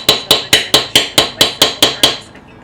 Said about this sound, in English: then use a hammer to knock a hole in it